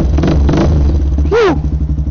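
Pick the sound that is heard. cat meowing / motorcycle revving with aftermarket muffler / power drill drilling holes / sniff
motorcycle revving with aftermarket muffler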